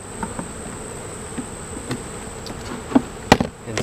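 Honey bees buzz around an opened hive while frames are moved during a split. A steady, faint insect hum runs throughout, with a few louder knocks and thumps toward the end.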